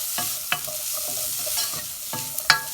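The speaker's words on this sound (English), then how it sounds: "So I'm just gonna stir fry them." Green, yellow and red capsicum stir-fried in a pan, a steady sizzle broken by a few sharp scraping and clattering strokes of the spatula, close and alone with no voices.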